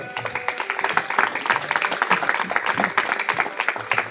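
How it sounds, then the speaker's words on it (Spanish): Congregation applauding inside a church during a sermon, a steady wash of many hands clapping that holds evenly throughout, with faint voices mixed beneath it. "Dámosle un fuerte aplauso, Señor."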